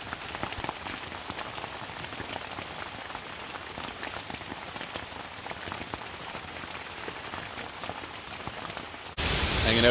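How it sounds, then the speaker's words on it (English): Heavy rain drums steadily on a campsite tarp during a fall overlanding trip in New England, a dense, close patter of drops that continues unbroken and swells louder at the very end. "being lulled to sleep by the lilting sound of the rain"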